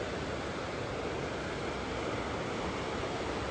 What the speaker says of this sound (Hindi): चलते चलते मेरे राइट साइड में एक छोटा सा वाटरफॉल, कितना खूबसूरत लग रहा है।